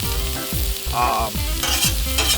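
Onions and asparagus stir-fry on a Hunsaker griddle over a WSM smoker, with a steady sizzle and repeated scraping strokes of a utensil working the food, close and fairly loud with no talk.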